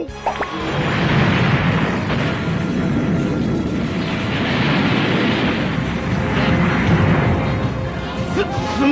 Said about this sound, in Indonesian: di mana ledakan itu benar-benar sangat dahsyat sampai membuat Piccolo berpikir kalau mereka mungkin telah berhasil untuk mengalahkan Majin Buu